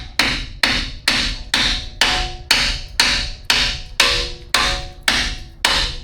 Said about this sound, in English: I have my hammer to help kind of pop this up in place